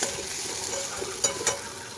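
Fried onion with added salt, turmeric and red chilli powder stirred in a hot pan for a poppy-seed onion dish; a steady close sizzle runs throughout, with a couple of sharper scraping stirs, and no voice.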